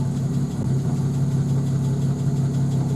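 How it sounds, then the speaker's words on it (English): A 1960 Jaguar Mk2 engine idles cold at about 500 rpm, a steady low rumble that runs unbroken and close throughout, with no voices. "Settling down to idling at 500 revs."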